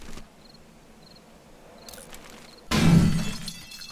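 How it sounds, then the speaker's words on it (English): Glass jars shatter in 7 Days to Die, a sudden loud crash of breaking glass after a few quiet seconds of faint game ambience and light clicks, ringing out briefly and close. "so we'll drop the glass jars."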